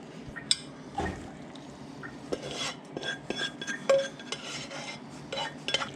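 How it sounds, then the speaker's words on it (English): Cooked pasta and its cooking water poured into a saucepan of thickening sauce, a wet liquid splash with clinks of the pot and utensils, close and moderately loud over about six seconds. "now I'm going to take this pasta and dump it and its water in here"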